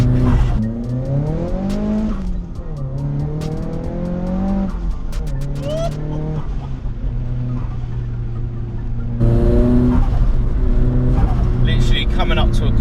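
A 2002 Nissan S15 Spec-R is driven hard, its engine revving up and down through gear changes with rising and falling tones under continuous talk from the driver, pulling strongly again near the end.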